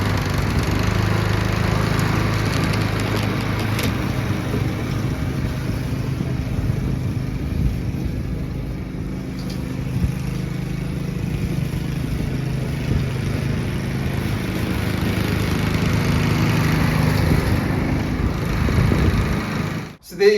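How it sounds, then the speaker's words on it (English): A Victa lawn mower fitted with a Chinese engine runs steadily while cutting grass, its continuous buzzing drone close and loud for the whole stretch before cutting off abruptly at the end. "Let's go and cut some grass with it now, see how she performs this mower we've got here."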